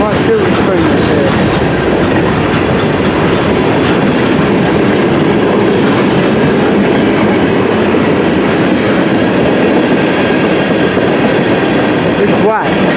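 A CN M399 westbound mixed freight train, including a lumber car, rolling past close by: a loud, steady roar of wheels and clattering cars that fills the whole stretch, with a brief squeal near the end.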